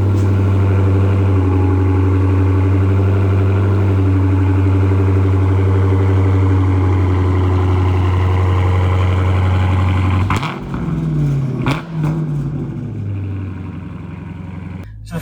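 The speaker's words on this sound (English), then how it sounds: "So the first thing you can tell is this car is very loud." A loud engine on a 2016 Dodge Challenger Super Bee with its mufflers cut off holds a deep, rumbling idle for about ten seconds, then shuts down with a few sharp clunks and a fading hum.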